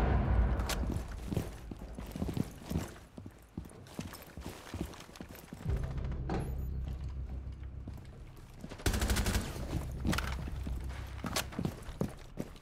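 Gunfire in Rainbow Six Siege, with loud bursts of shots and impacts in the opening seconds and again near the end, over continuous game noise.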